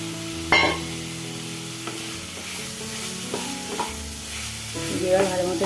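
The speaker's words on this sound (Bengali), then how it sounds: "এবার ভালো মতন একে নাড়ছি।" Fried, finely cut potatoes are stirred into a spiced masala curry in a pan, producing a steady close sizzle with scraping stirs and a few knocks of the spoon.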